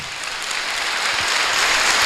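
A church congregation breaks into loud applause during a Christian television program, a dense, hissing roar of clapping that swells slightly and holds steady throughout.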